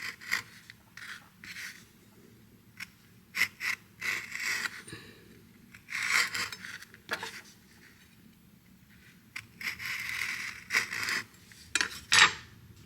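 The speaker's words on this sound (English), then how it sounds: "You don't have to split this up, these pods up, but I like to do it because it gives more surface area" A knife splitting vanilla bean pods on a cutting board, with short scattered scraping and tapping bursts separated by quiet gaps, close and fairly faint, no talking.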